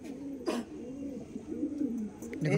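Andhra Madrasi pigeons coo in a continuous low, rolling murmur at a loft, close and steady, with a few brief sharper sounds scattered over the cooing.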